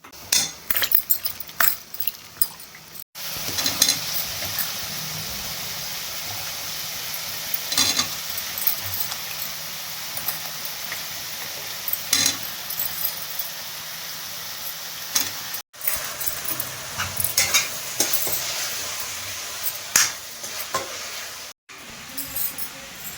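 Eggplant pieces fry in oil in a pan, giving a continuous, moderate sizzle. Utensils stir and scrape against the pan now and then, with a few brief metallic clinks and no talking.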